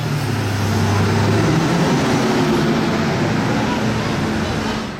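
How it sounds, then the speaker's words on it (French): A Ferrari V12 sports car drives past on a Monaco street, a loud, close engine drone that swells and then slides lower in pitch, set against busy traffic noise. "Et un autre V12 Ferrari."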